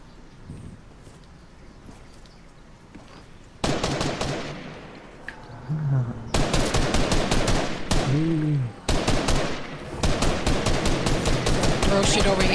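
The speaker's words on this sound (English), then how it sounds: "They're shooting over here." Rapid bursts of video game gunfire crackle in dense, repeated volleys, starting softly and turning loud and sustained in the second half, while a voice talks over parts of it.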